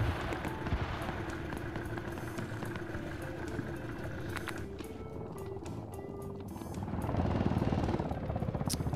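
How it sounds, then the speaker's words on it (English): A video game helicopter's rotor chop thrums under dense game-style gunfire and rumble, swelling louder near the end. "That's a helicopter."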